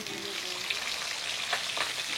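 Carp frying on a wood-burning stove in a home kitchen in the Danube delta, a steady close sizzle and crackle with faint stirring scrapes throughout, no voices.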